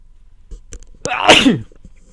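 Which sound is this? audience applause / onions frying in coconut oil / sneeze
sneeze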